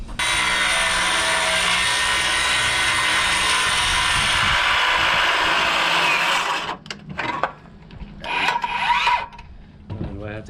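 A small cordless power tool cuts wood for replanking a wooden Tahiti gaff cutter, a loud, steady mechanical whir for about six seconds that then stops, followed by scattered handling knocks and faint movement.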